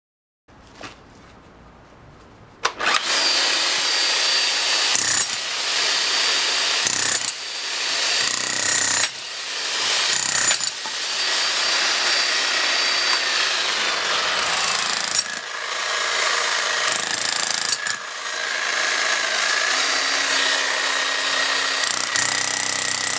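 A repaired blue electric chisel hammer fitted with a new chisel pounds into a brick in long, loud, continuous bursts of rapid hammering, broken by a few short pauses, heard up close.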